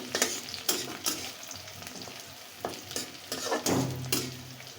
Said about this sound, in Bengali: নতুন পেঁয়াজ একটু ভাজা হইতে সময় লাগে।